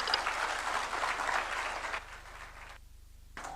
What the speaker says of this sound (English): Another round of applause for His Excellency as we take our seats.